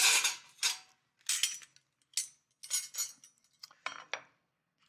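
Metal kitchen skimmers and spoons clink and clatter as they are picked up and handled, a quick series of bright, close metallic knocks and scrapes with short gaps between, and no talking.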